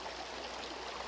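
A river flows in a steady broadband rush of water, a continuous even wash heard up close with no voices.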